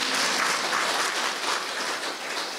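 A room of spiritual retreat participants at Pandav Bhawan claps together in a brief, steady burst of applause, fairly close and without speech.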